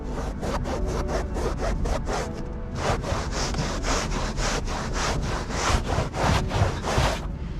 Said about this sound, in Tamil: வெட்டான ஒரு கிளாத்தை வச்சு ரப் பண்ணி எடுத்துட்டோம்.